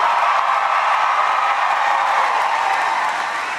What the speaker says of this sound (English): you are a loud crowd